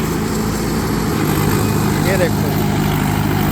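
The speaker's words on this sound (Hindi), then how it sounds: "और टर्बो का साउंड भी बहुत ही बढ़िया आ रहा है" A Mahindra 585 XP Plus turbo tractor runs steadily in low gear with a super seeder, its engine a loud, constant close drone with a faint turbo whine; a voice speaks briefly.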